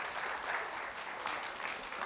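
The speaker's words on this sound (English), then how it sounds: "Round of applause for Audrey, our resident slime maker." Faint, steady applause from a family audience at a science night, even continuous clapping from many hands for a young slime maker, heard on its own without talk.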